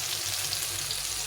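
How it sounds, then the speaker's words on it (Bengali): Eggplant pieces deep-frying in a pan of hot oil, a dense, steady sizzle and crackle close up with no pauses and no voices. "দেখো বন্ধুরা এই ছাকা তেলে বেগুনগুলো ভেজে নিচ্ছি"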